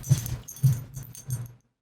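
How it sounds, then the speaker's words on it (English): A husky gives a few short, soft vocal sounds, three or four brief whines or low yips spaced about half a second apart, close by and quiet. "Oh, I hear a dog."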